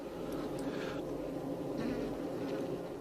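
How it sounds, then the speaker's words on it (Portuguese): Newly emerged worker honeybee drying its wings, giving a steady, close, continuous buzz with slight fluctuations throughout. "Esta operária, recém-saída da célula, seca suas asas."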